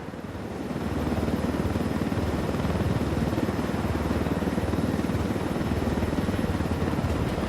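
Helicopter in the Ghost Recon Wildlands video game flying low through a canyon, a close, steady rotor thump and engine drone that swells in within the first second and holds loud and even throughout.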